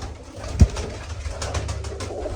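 Pigeons coo softly in the background over a low steady rumble, with one brief louder thump partway through, at a pigeon breeding loft.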